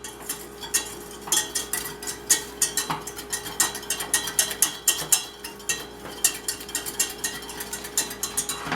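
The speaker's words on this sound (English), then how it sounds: "Then we're just going to whisk in some cooking stock in with this." A whisk beats cooking stock into a roux for gravy in a pan, giving quick, rhythmic scraping clicks that keep going steadily and close up.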